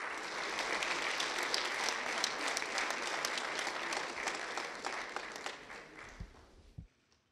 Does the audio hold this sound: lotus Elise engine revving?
no